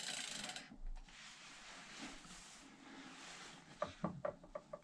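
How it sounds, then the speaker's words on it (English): A Cube hybrid e-bike coasting after pedalling stops: steady rushing noise first, then a run of sharp freewheel ratchet clicks near the end, close and moderately loud. "When I stop pedalling, all you can hear is the ratchet."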